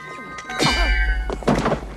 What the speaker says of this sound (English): those glow rods sound so cool